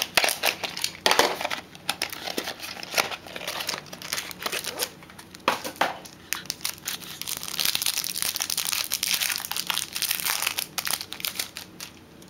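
Foil wrapper of a 2010 Panini Absolute Memorabilia football card pack being torn open: crinkling and crumpling up close, loud and continuous in bursts, with cards shuffled after.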